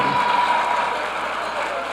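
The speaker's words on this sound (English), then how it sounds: "Let's give these young people a big round of applause." Steady, dense applause from an audience at a school board meeting, a continuous loud wash of clapping that holds evenly throughout without a break.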